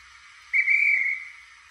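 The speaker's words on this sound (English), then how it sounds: "function 10, which is a dispatch whistle" A single steam-style dispatch whistle from a Victory locomotive sounds for under a second, a steady shrill tone that fades out, alone with no talk.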